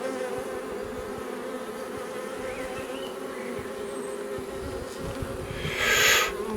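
Honeybees, some newly emerged from capped brood, hum inside a mini-plus nucleus hive in a dense, continuous, close drone that swells briefly louder near the end, with no one speaking.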